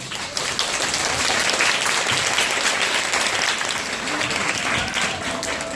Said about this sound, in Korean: 뜨거운 박수를 준비하고 있는데 박수를 먼저 할까요